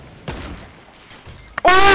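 Sniper rifle shot in the Fortnite video game, a sudden sharp crack close by that leads straight into a sustained burst of loud in-game noise.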